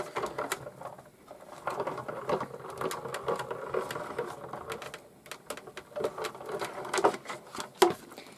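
A card die-cutting machine feeding a card through its rollers, giving off a busy stream of clicks, ticks and rattles at moderate level, close by, with a few sharper snaps near the end.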